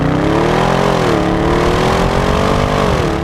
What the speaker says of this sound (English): The exhaust has got that gruff authority to it.